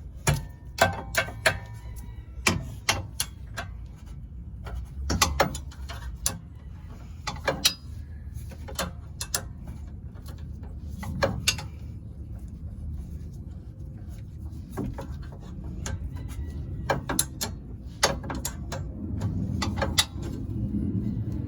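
A bolt is loosened on a 10th-gen Honda Civic Si during a coilover install, heard as a series of close, sharp ratchet clicks and metallic taps in irregular bursts over a low garage background.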